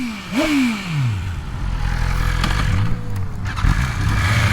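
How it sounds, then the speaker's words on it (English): A BMW inline-four motorcycle engine idles with a steady low throb, with a brief rev and a falling pitch sweep near the start, all close by. "Just the way the engine idles, the sound it makes, it's got a very unique sound and character"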